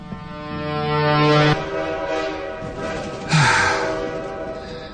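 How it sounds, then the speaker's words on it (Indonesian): A deep, sustained horn blares loudly with a rushing, rumbling roar as a train passes close by, in the game Nightmare Side 2017. "lagi-lagi suara kereta api yang melintas"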